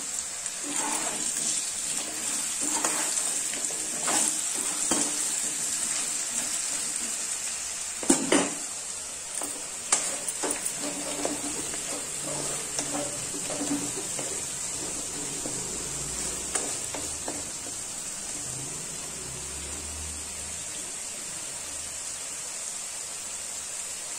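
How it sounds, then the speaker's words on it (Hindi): Vegetables fry in oil with garam masala for an aloo sabzi, a constant high hiss under scattered scraping and clinks of a spoon stirring in the pan, fairly close and without talk. "तेल छोड़ने तक भूनना है।"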